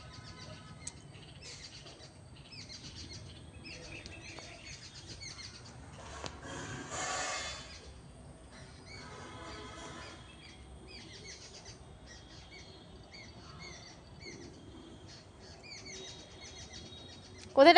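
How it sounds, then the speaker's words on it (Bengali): Birds call faintly from trees nearby, scattered chirps and short tweets over quiet outdoor background, with a brief louder rustle midway. "এই যে গাছের মধ্যে কতগুলো পাখি ডাকছে।"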